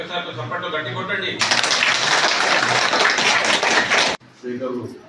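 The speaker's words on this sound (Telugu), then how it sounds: "చప్పట్లు గట్టి కొట్టండి" An audience at a public gathering claps loudly, a dense burst of applause lasting about three seconds between stretches of someone speaking.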